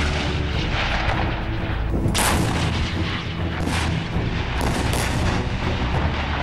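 War footage from the Armenia–Azerbaijan conflict carries dense, continuous artillery fire and explosions. Heavy booms and gunfire overlap at a loud, rumbling level throughout, with sharper blasts standing out at intervals.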